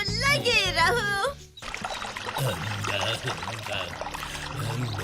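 A cartoon donkey drops into water with a splash and bubbling pour-like sounds, following a sung phrase and continuing under the background music.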